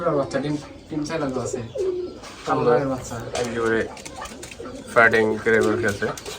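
Pigeons at a pigeon farm coo close by in repeated rounds of low, throaty calls, with people talking in the background.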